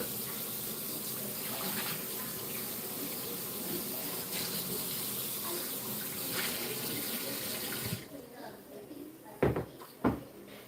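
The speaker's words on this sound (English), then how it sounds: "First, I gotta rinse off the steak real quick." Kitchen tap water runs steadily into a sink while steak is rinsed, a continuous splashing gush with talk over it, then the flow stops around the eighth second and a couple of sharp knocks follow.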